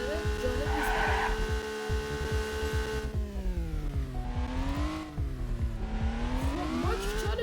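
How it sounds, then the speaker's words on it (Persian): A car in a browser racing video game drones with a steady harmonic engine hum, its pitch rising and falling as it accelerates, while tires skid and squeal over a rapid pulsing throb. "صدای یک ماشینی که زیاد صدا داره جالب نیست برام"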